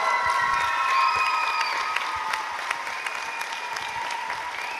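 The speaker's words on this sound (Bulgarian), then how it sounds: "Аплодисменти за Ивана Муцкова, носител на Гран-при на второто издание на Музикален импулс 2018." An audience applauds the Grand Prix winner of the Music Impulse 2018 contest, sustained even clapping filling the hall with no voices over it.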